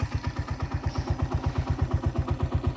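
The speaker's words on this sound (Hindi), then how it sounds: "और ये है जी हमारी बाइक जो इधर इन रास्तों पे जा रही है।" A motorbike rides a rocky track at Panjpeer Rocks, heard up close as a loud, rapid, even engine thump with a faint clatter on top and no voices.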